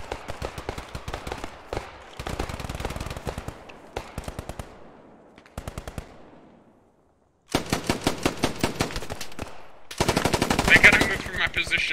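Bursts of automatic and single-shot gunfire in the WWII shooter game Post Scriptum, rapid rattling volleys broken by short gaps and one quiet stretch, with a louder dense burst near the end.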